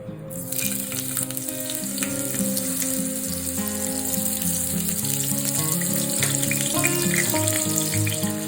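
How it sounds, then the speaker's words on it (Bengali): Chopped ginger sizzles in hot oil in a steady, dense crackle, close and constant throughout, with a faint tonal hum underneath and no voices. "এবার তেলেতে আমি প্রথমে আদা কুচি,"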